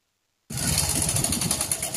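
Motorbike engine running steadily close by after an abrupt start, a continuous rough mechanical drone with no speech.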